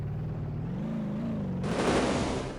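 Car crash in a racing video game, with a mid-engine rear-wheel-drive car taking a loud impact: a steady engine drone gives way to a sudden harsh crunching burst, heard alone without talk.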